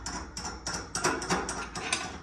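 Steady ratchet clicks as a blade is tightened onto the arbor of a vintage late-1940s Delta/Milwaukee 14-inch table saw, about eight evenly spaced pulls, close and fairly loud.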